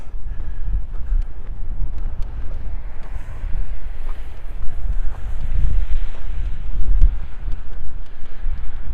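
Wind blowing outdoors on a winter street in Regina near a gas station, a loud steady rumble buffeting the microphone with gusts rising and falling, no one speaking.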